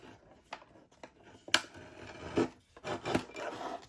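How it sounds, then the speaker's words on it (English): Tim Holtz Tonic Studios paper trimmer slicing through a small piece of patterned craft paper, several short scraping rasps and a few sharp clicks close up, with quiet gaps between strokes. "I really like this trimmer, the Tim Holtz Tonic Studios trimmer, when I'm working with smaller pieces"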